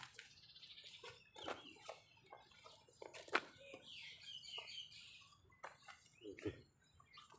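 Chickens cluck in short scattered bursts at a rest stop, the calls faint and intermittent, with background noise and a few quiet voices between them.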